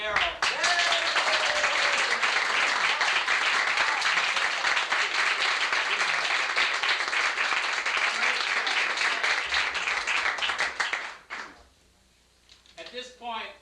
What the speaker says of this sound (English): A round of applause for Bob and Errol.